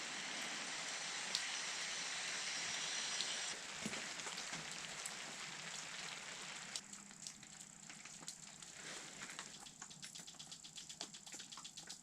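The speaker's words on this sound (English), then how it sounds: "It has been raining now for about half an hour" Rain patters steadily on an ice-fishing spot, a soft continuous hiss scattered with sharper droplet taps that grow denser toward the end, fairly quiet and with no talking.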